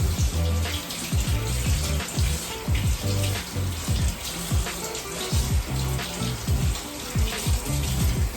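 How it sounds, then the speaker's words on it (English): Tap water runs steadily into a cup in a home kitchen for bread-making, a continuous close splashing stream with rising gurgles as the cup fills, no talking. "I'm gonna get about 1 cup of water."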